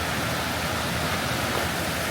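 Steady, full rush of a mountain creek running close by, a continuous broadband wash of flowing water with no pauses and no voices.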